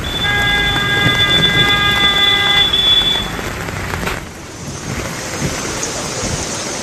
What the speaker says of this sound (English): Jammu and Kashmir's Anantnag was lashed by heavy rain and winds